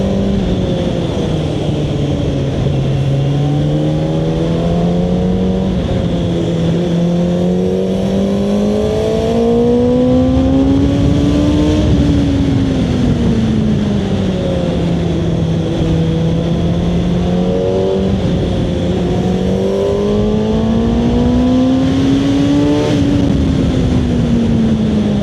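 A motorcycle engine pulls under throttle while riding through slow corners, its pitch rising and falling in long smooth sweeps, loud and close over wind rush, with no talking.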